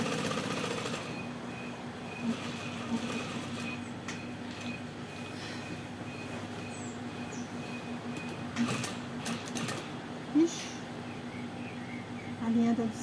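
A sewing machine stitching fabric scraps for a patchwork flower, a continuous low whirring hum that runs throughout, with a few sharper clicks and knocks near the end while someone talks quietly over it.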